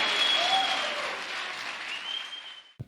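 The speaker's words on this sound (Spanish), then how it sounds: "Yo creo que Él merece en esta mañana el mejor de los aplausos." A church congregation applauds at a Sunday morning service in a broad wash of clapping that slowly thins, with a faint tone sustained beneath it, ending in a brief thump.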